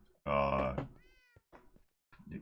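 A cat meows in the Minecraft Skyblock video game, one loud drawn-out game meow followed by quieter trailing sounds, with a voice speaking around it.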